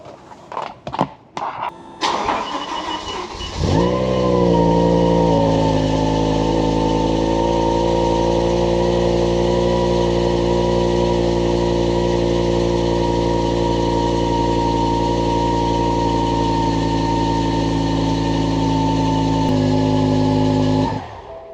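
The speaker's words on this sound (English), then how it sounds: "And we're going to do a cold start here first." A BMW E60 M5 V10 with a Dinan performance exhaust cold-starts after a few brief clicks: a short cranking burst, then a loud, steady high idle that holds evenly with a rich, layered drone until near the end.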